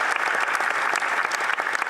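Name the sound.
applause in parliament Question Period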